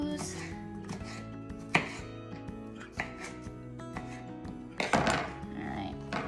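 A knife chops food on a cutting board during home cooking, sharp thunks landing at an uneven pace with a few sharper strikes, as a person talks between the cuts.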